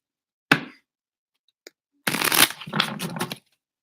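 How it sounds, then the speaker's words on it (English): Tarot cards snap once, then after a short pause are riffled and shuffled in a quick, crisp burst lasting over a second, close and fairly quiet, with silence in between. "immediately can't shuffle the cards"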